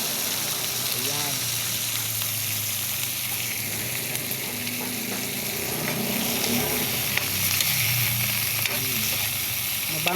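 Kangkong (water spinach) fries in a pan with a steady, close sizzle and hiss that lasts throughout, and faint voices murmur in the background.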